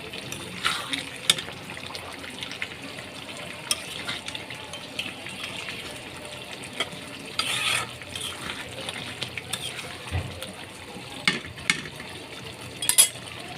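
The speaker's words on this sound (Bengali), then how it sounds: "এই যে মশলা মুরগিটা কষাইতেছি" Spiced chicken is stir-fried in a pan. A soft, quiet sizzle runs underneath while a spoon scrapes and clacks against the pan in irregular bursts, with a few wet, splashy moments.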